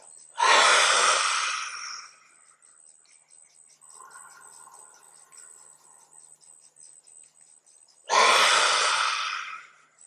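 Two long, deep breaths drawn loudly and close to the microphone during a breathing exercise, each lasting over a second, separated by a quiet stretch of soft breathing and faint voice.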